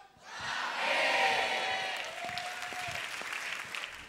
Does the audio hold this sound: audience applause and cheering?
yes